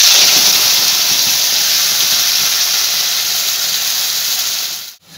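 Ground spice paste hits hot oil already frying whole cumin, dried red chillies and bay leaves, giving a loud, steady hissing sizzle that slowly eases and cuts off abruptly near the end.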